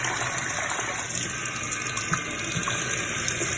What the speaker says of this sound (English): You've just got to keep rinsing it to get rid of all the starch